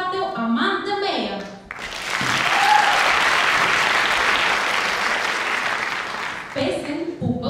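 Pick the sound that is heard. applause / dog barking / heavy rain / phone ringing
applause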